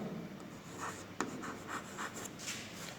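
A pen writes numbers by hand during a Class 6 maths lesson on the number system, producing a rapid series of close, soft scratching strokes in a quiet room.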